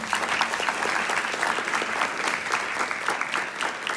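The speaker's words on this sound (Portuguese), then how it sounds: "Eu queria pedir uma salva de palmas, por favor," Steady, dense applause from a seminar audience at the closing of an aquatic sports science event, continuous clapping filling the room at even loudness throughout with no break.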